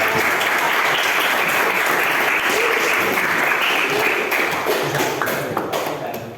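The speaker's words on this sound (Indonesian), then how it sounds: "Tepuk tangan buat Pak Dirjen." An audience claps loudly and continuously during a teacher-training learning session, a dense wash of applause that holds steady and then tapers off near the end.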